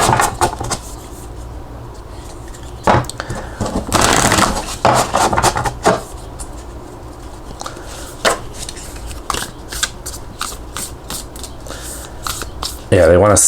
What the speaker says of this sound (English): riffle shuffling is a little bit more likely to produce a mix than overhand